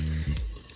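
Low-pressure water trickles from a kitchen tap while dalgona whipped coffee is being made, a brief steady running stream with no talk.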